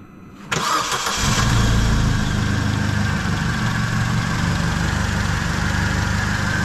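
Opel Corsa D petrol engine starting, then settling into a steady, close idle with a faint unevenness from a slight misfire, heard alone without talk.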